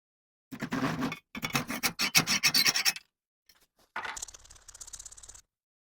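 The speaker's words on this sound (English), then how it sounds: "I'll just saw that off real quick." An axe handle being sawn off with a hand saw, heard as close, rhythmic rasping strokes in two bursts, then a pause and a lighter scraping finish, with no voices.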